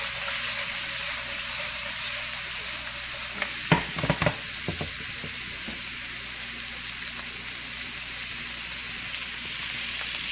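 Vegetables being stirred into a hot, sizzling pan for shrimp linguine, a steady frying hiss throughout with a brief cluster of scraping, clattering stirs near the middle.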